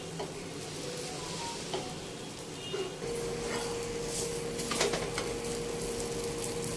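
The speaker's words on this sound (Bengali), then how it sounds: "তেল দিয়ে এটাকে সেঁকে নেওয়া হচ্ছে।" Egg roll pan-frying in white oil, turned side to side, giving a steady close sizzle throughout with a few soft utensil clicks and scrapes.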